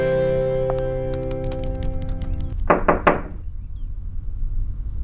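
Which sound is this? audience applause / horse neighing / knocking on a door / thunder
knocking on a door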